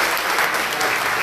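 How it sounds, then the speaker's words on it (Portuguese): A church congregation breaks into loud, dense applause for Jesus during a worship service, a continuous roar of many hands clapping throughout. "Você pode dar uma salva de palmas para Jesus?"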